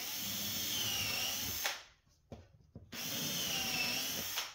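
A power drill bores track holes into a melamine cabinet gable in two loud, steady close-up whirring runs, separated by a short pause with light handling clicks.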